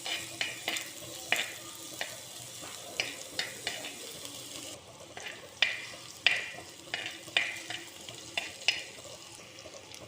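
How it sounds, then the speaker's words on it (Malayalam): Chopped onion, mustard seeds and curry leaves fry in a pan for a coconut-based prawn and tomato curry, with a steady soft sizzle under a string of irregular spoon scrapes and taps against the pan; no talking. "ഇനി ഇതിലേക്ക് വേപ്പില ഇട്ട് കൊടുക്കാം. നമുക്ക് നന്നായിട്ട് ഇളക്കാം."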